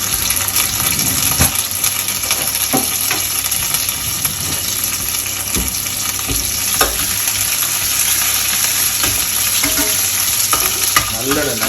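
Loud, steady sizzle of curry leaves and green chillies sautéing in plenty of sesame oil for a prawn pepper masala, with scraping stirs and small pops throughout, no talking.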